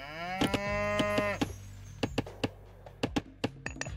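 A cow in the game Age of Mythology: Retold gives one loud, close, drawn-out moo, followed by a scattering of sharp tapping and knocking game-interface clicks.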